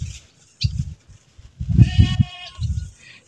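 A goat, a neighbour's animal, bleats in several wavering, nasal calls from close by, with a longer quavering bleat in the middle and a short background sound between calls.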